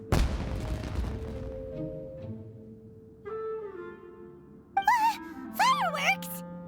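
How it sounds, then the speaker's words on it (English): Fireworks exploding in the video game Genshin Impact: a loud boom at the start fading into a ringing tail, followed by chiming tonal effects and rising whistling sounds. "It sounded like fireworks."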